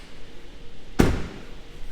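A sharp single click-thump of the hood release latch on a 2017 Jeep Cherokee Sport, heard once near the middle against a quiet background.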